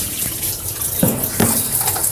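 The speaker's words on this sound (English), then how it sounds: "You see I have water splashing over here" Tap water runs and splashes in a steady close rush, with two sharper splashing bursts partway through.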